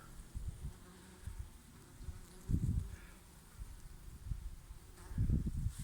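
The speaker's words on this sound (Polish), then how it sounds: "Nie tylko pszczoły, bo i jakieś inne robale są, ale moje pszczółki są." Steady insect buzzing from many honeybees on flowering goldenrod, with louder low hums swelling as individual insects fly close past, then fading.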